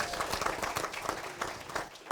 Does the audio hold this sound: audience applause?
yes